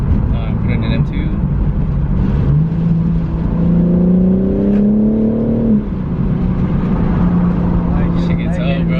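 BMW G80 M3 accelerating in M2 mode, a loud rising engine note that climbs for a few seconds then drops off, heard from inside the car with cabin noise around it.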